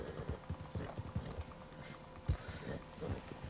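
Rhythmic clip-clop of horse hooves in a Western video game, a steady galloping patter at moderate loudness with a sharper thud partway through and no talk over it.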